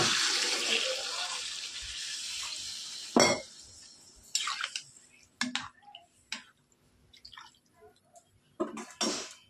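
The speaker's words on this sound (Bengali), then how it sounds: "এখন প্রয়োজন মতো জল দিয়ে দেব।" Water is poured into a pot of simmering fish and vegetable curry with radish and potato, giving splashes and clinks of a pan and utensils in short bursts between quieter gaps.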